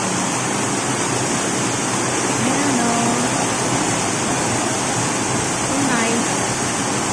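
Water flows steadily through a park channel in a constant broadband rush, loud and close, while a voice speaks briefly over it.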